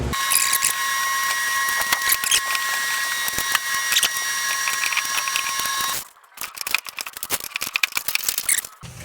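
Hose clamps are worked loose on the gas tank of a 1999-2003 Ford F150, close metallic clicks and scraping ticks over a steady electric whine that cuts out midway, leaving scattered rattling taps.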